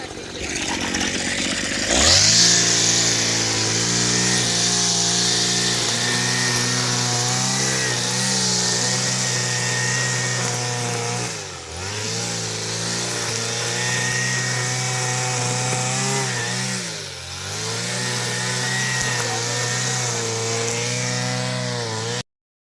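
A garden tree-cutting machine works through large branches, its engine whining and droning loudly and continuously with periodic dips in pitch as it bites into the wood; no talking is heard.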